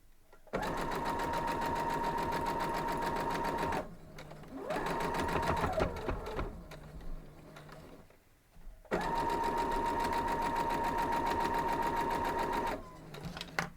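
A sewing machine runs in three long, fast bursts with short pauses between, stitching pieces for a bear tracks quilt block; a high whirring hum sits over rapid needle clatter, close and alone.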